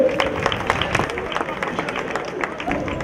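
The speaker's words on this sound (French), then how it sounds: "On l'applaudit s'il vous plaît" Audience applause at a Thai boxing gala, a continuous patter of many hands clapping with crowd murmur beneath, steady and fairly loud throughout.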